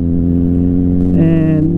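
A Kawasaki ZX-4RR inline-four motorcycle engine runs steadily up close, its pitch rising into a brief higher rev near the end, loud and unbroken with no talk over it.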